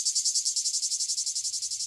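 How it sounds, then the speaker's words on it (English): A cicada gives a shrill, rapidly pulsing buzz, loud and continuous, with regular throbbing beats and nothing else around it. "You probably heard a cicada if you've not seen one"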